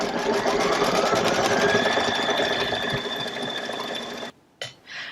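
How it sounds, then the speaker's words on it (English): An embroidery sewing machine stitches the outline pieces of a table runner's heart border sections in a fast, steady mechanical whir, then stops abruptly, followed by a couple of short whirring bursts. "It's going to stitch out the outline pieces for those borders."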